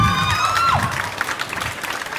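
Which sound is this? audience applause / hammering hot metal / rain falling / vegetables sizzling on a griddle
audience applause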